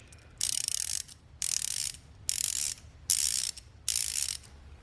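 A US-made Craftsman 1/4-inch ratchet clicks through five separate bursts of rapid, crisp pawl ticks, close up, with short quiet gaps between them.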